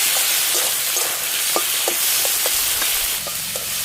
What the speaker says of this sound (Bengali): টমেটো আদা রসুন ভালো করে ভেজে নেই।